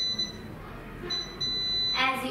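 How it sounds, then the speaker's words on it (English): An Arduino anti-sleep alarm buzzer for car drivers, set off when the eyes close, gives a thin, high electronic tone in a few short bursts with gaps between them, then a brighter burst near the end. "As soon as we close eyes, the buzzer will ring."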